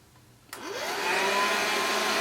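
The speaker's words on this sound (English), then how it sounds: "I am going to go in with my blow dryer on cool again" A blow dryer on its cool setting switches on and runs steadily, drying the hairline of an HD lace 5x5 closure wig; a close, continuous whooshing airflow with a rising whine as it spins up, heard alone.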